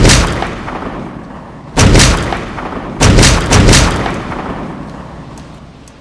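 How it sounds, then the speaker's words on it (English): Distant gunshots during a moose hunt: several booming reports, one single then a close cluster of three, each rolling out in a long echoing decay over open ground. "we heard shots going off in the distance"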